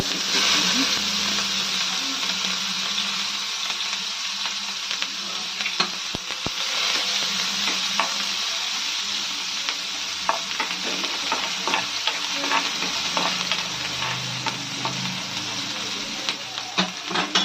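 Thinly sliced onions frying in a pan with mustard seeds for okra masala, a continuous close sizzle with frequent spatula scrapes and small crackling pops, occasional speech in the background.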